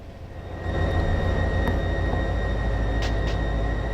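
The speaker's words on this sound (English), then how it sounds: "Man, this looks like a huge train." A long freight train of about forty cars rumbles along in the Run8 train simulator game, a steady low engine and rolling drone that swells after the first half second and holds, with faint high tones on top.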